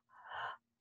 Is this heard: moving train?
no